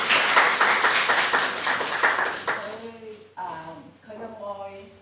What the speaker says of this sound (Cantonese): 首先俾神一個掌聲啦